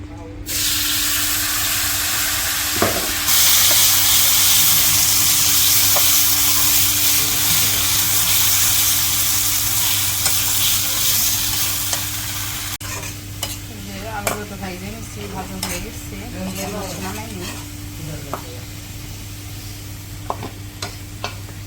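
Potato pieces dropped into hot oil in a village kitchen late at night: a loud continuous hiss and sizzle at first, then settling into softer bubbling crackle with stirring scrapes and clinks, up close with no talk.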